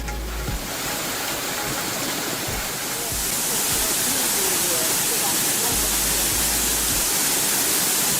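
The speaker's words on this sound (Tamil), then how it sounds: "அருவியில் வெள்ளப்பெருக்கு" Flooding waterfall at Megamalai after heavy rain, a loud steady roar of rushing water that swells and grows broader partway through, with no voices.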